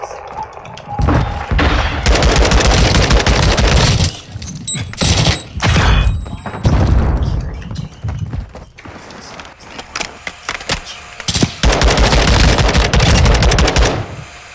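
Video game gunfire rattles in loud bursts of rapid automatic shots, separated by short pauses and scattered single thumps, close and dominant throughout.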